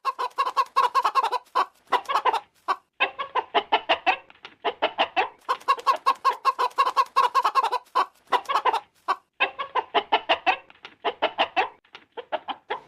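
Chickens clucking steadily and close while being fed, a dense run of overlapping clucks and short squawks with brief pauses and no voices.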